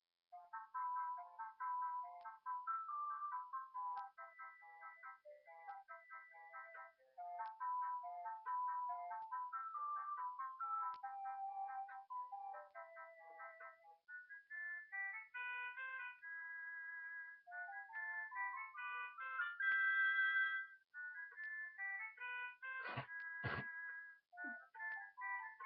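A melody from Zelda playing as a cell phone ringtone, a bright electronic tune with a bouncy repeating phrase, fairly clear and close, alone without talk, with a brief clatter near the end.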